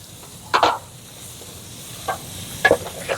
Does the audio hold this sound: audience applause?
no